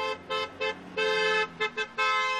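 Car horns honk in traffic in a rhythmic series of short and long blasts, loud and near, in a festive pattern with no talking.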